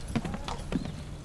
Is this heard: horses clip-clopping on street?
yes